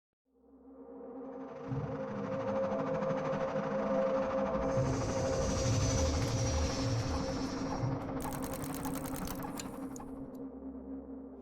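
A train pulls into Gare d'Austerlitz station in Paris, a rising mechanical whir and rumble that swells and holds loud, with a high whine in the middle and a rapid metallic clatter near the end.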